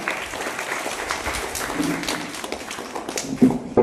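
Applause from a group of people at a farewell ceremony organised by a local panchayat, a sustained crackle of clapping at moderate loudness, with a few sharper claps near the end.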